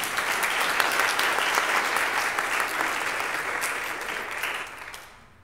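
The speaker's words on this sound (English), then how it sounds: "Let's give Cindy a little round of applause." A church congregation gives a round of applause for a caregiver, steady mid-distance clapping that holds evenly for about five seconds before tapering off quickly.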